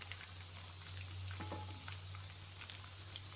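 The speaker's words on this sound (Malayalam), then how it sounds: "ഇങ്ങനെ അപ്പുറത്തെ സൈഡും കൂടെ ഒന്ന് നമുക്ക് നന്നായിട്ടൊന്ന് ഫ്രൈ ചെയ്തെടുക്കാം" Egg kebab snack made with egg and coconut frying in a pan, a faint, steady crackling sizzle with a low hum underneath and a few scattered pops.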